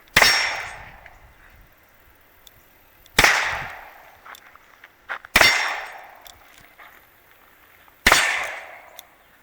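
Four sharp, loud shots from an Iver Johnson .32 S&W revolver fired one-handed in double action, spaced a couple of seconds apart, each with a ringing decay and faint clicks between.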